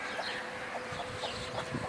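Chickens cluck softly near a backyard coop, a few scattered clucks fairly faint over a low outdoor background, with no voices.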